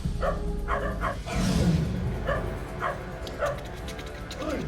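A dog gives a string of short barks and yips at a steady pace, fairly close, with some background noise and a brief louder burst of commotion.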